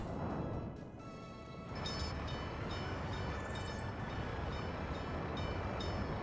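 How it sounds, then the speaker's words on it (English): A long train rolls past steadily in the Soviet-era city-building game Workers & Resources: Soviet Republic, a continuous rumbling wash of rail noise with no one talking. "There really isn't a traffic jam, it's just the train's too long."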